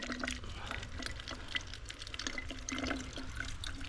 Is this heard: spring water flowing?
yes